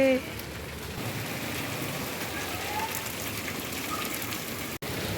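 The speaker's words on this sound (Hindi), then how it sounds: "बारिश काफ़ी तेज़ है" Heavy rain pours steadily in a dense, close wash of drops hitting surfaces, with faint voices briefly audible near the start.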